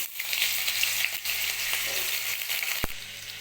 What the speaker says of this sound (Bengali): এবার তেল গরম হয়ে গেছে এবার আলুটা ভেজে নেব